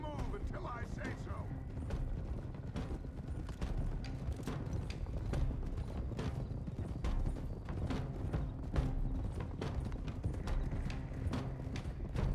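Horses' hooves clip-clop steadily on the ground in the western video game Red Dead Redemption 2, several riders moving together at a walking pace, with faint tack creaks underneath.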